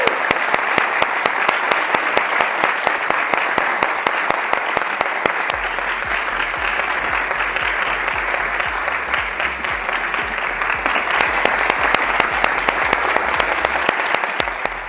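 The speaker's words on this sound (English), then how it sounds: "Applause, please." Loud, dense audience applause at a product launch event welcoming a former OpenAI engineer to the stage, steady sustained clapping throughout with a low hum underneath and no speech.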